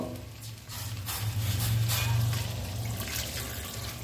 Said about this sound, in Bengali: এবার গ্রেভির জন্য জল দিয়ে দেব